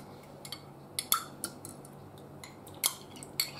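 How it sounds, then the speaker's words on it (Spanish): Metal utensils clink and scrape against a container as gelatin is stirred into hot jam for a no-bake cheesecake topping, sharp irregular taps close up over quiet background, no talk. "Ahora lo mezclamos todo"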